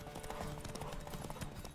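Horse hooves gallop in The Witcher 3, a fast, dense clip-clop running steadily through the whole stretch at moderate loudness, mixed with other game sounds.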